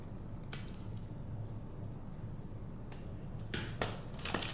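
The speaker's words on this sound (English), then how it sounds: "I'm going to go ahead and trim the old bloom spike away" Scissors snip an old bloom spike off a Blc. Copper Queen orchid during repotting, several short, crisp cuts spaced irregularly over a low, steady background hum.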